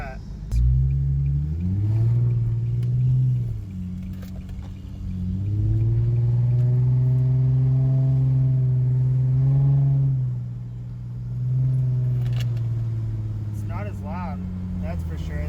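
Exhaust of a 2005 Infiniti FX35 fitted with a Cherry Bomb glasspack, a loud close rumbling idle that rises and falls through a few revs, with someone talking briefly.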